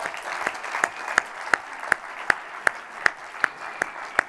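A church congregation claps in unison, with single sharp beats at an even pace of roughly three per second, over a soft room murmur at moderate distance.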